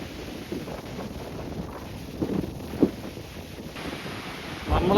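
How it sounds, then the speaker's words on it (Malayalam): Windy surf breaking at Murrays Bay beach on Auckland's North Shore, a steady wash of waves with wind buffeting the microphone and a few louder breakers rising out of the rumble. "കാറ്റായതുകൊണ്ട് തിര കൂടുതലാണ്."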